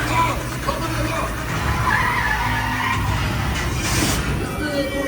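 Stunt cars skidding during the Fast & Furious Supercharged tram ride at Universal Studios Hollywood, a loud sustained tire screech and engine roar filling the space, with voices shouting over it.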